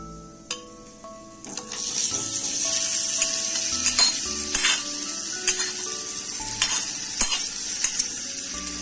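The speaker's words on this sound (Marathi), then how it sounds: "मसाले आपले चांगले परतलेले आहेत, त्यामध्ये आपण शिजवून घेतलेले बटाटे टाकूया।" Boiled potatoes are stirred into fried spices in a pan, with soft sizzling under repeated sharp scrapes and clinks of a spoon against the metal, occurring in an uneven rhythm, close up.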